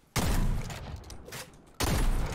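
Two loud blasts from the Ranger shotgun in Fortnite, a sharp crack at the start and another near the end, each with a booming tail that decays between shots.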